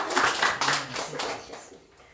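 Church congregation during a Sunday service claps for one another in a short, scattered burst that is fairly faint and fades out within about two seconds.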